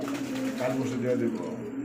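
Pigeons in a coop, a female below and a male above, give soft, low, rolling coos close by, repeating in a continuous murmur.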